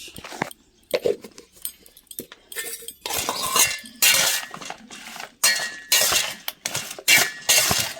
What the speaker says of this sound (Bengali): নুন হলুদ দিয়ে মাখিয়ে নিলাম।